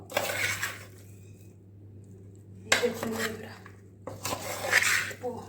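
Jackfruit pieces stirred in a pan, with bursts of close metal scraping and clinking of a utensil against the pan separated by a quiet pause, and a low steady hum underneath.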